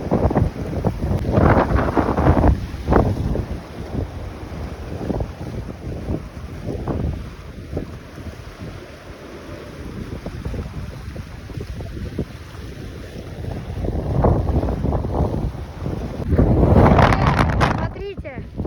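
Strong, gusting wind roars across the microphone on a stormy sea shore during a cyclone in Yalta, with surging waves beneath. It builds in heavy blasts at the start and end, with a calmer stretch in between.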